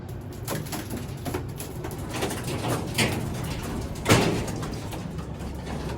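Pigeons in a breeding loft, birds kept in pairs and in breeding condition, give soft cooing calls amid shuffling and fluttering, with a sharper clatter partway through and no talk.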